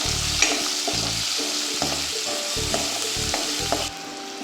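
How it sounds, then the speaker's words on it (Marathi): Finely chopped onion sautéing with garlic in a hot pan for a garlic fenugreek dish: a steady close sizzle broken by about seven rhythmic scraping stirs of a spoon. "आता यामध्ये बारीक चिरलेला कांदा घालूया तोही परतूया"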